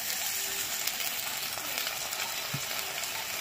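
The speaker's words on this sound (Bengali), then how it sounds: "সামান্য একটুখানি জল দেবো মশলাটা কষানোর জন্য" Spices frying in a pan with a splash of water added, giving a steady, loud sizzle with faint stirring and scraping, no voices.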